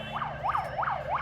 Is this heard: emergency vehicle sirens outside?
yes